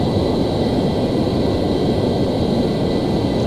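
An F-14 jet in the Flight Simulator X game flying back around over an airport: a steady, loud, continuous engine roar and rumble with no variation, alone without talk.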